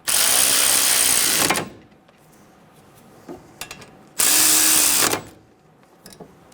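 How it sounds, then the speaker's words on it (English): Power tool snugging down the brake caliper bolts on a 2011-2014 Hyundai Sonata during a front caliper replacement, two loud close whirring runs of about a second and a half each, separated by a quieter stretch with faint clinks. "Get the bolts started, snug the bolts down."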